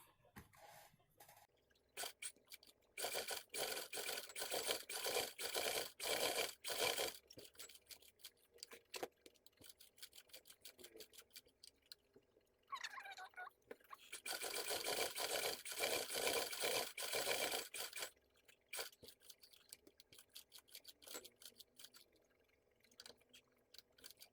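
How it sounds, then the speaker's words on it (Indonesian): Sewing machine stitching around the edge of a leather tote bag, several bursts of rapid mechanical whirring a few seconds long, separated by quiet pauses with small handling noises. "Nah, ini aku akan jahit sekelilingnya."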